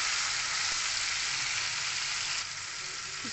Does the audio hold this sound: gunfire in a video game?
no